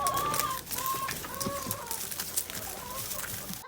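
Chickens clucking outdoors in bitter winter cold of minus 34, scattered short calls near and mid-distance over a steady background hiss.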